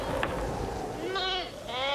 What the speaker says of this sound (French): Une trentaine de moutons, couchés sur la terre brûlante, se reposaient près de lui